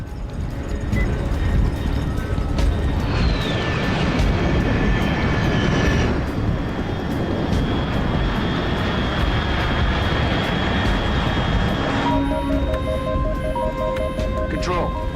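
An aircraft flies in Metal Gear Solid Delta, a steady roaring engine drone with a whining tone sweeping past, mixed with game ambience and a radio voice speaking over it.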